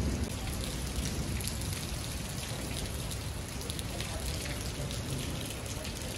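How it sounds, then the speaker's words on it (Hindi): Steady rain pours onto plants and leaves, a dense, even hiss that is loud and close throughout with no pauses and no clear talking. "बड़ी ही प्यारी बारिश हो रही है, तमाम पौधे पत्ते धुल धुल के साफ हो गए हैं"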